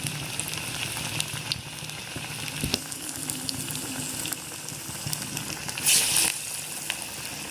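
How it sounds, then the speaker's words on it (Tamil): Banana flower vadai frying in hot oil, a steady close sizzle and bubbling that runs unbroken throughout, with a brief louder burst of spattering near the end. "அது பொரியட்டும்."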